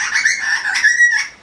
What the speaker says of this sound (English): Wow, that's a really loud bird.